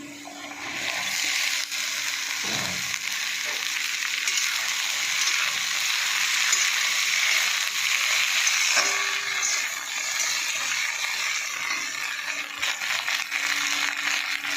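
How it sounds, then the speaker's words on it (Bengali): Sliced okra tipped into a pan of lightly fried onions, giving a steady broadband sizzle that stays loud and constant throughout with a few faint clinks, no talking. "এবার আমি ভিন্ডিগুলো দিয়ে দেবো, চেলা করে কেটেছি।"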